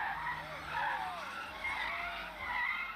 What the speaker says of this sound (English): the screeching tires of a fresh Kia can be heard driving into the gardens